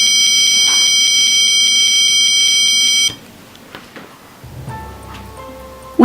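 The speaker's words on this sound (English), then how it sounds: "As soon as the wire is removed from the device, an alarm will sound" A tripwire alarm on a breadboard safety device gives a loud, steady electronic buzzing tone for about three seconds, then cuts off. Quieter handling noise and a brief second beep follow, close by.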